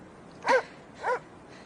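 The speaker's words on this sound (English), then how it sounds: "Are these your dogs?" Dogs in an audio drama give two short, sharp barks with a whiny, yipping edge, spaced about half a second apart, fairly close and with no speech over them.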